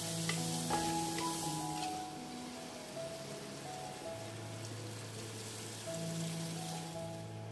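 Masala paste with tamarind water and tomato sizzles in a pan for a country chicken curry, with a steady crackling fry and soft scraping as it is stirred, continuous and close throughout.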